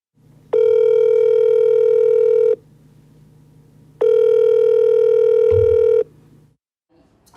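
An unanswered telephone call gives two long, loud ringback tones, each lasting about two seconds with a pause between them, against a faint low hum.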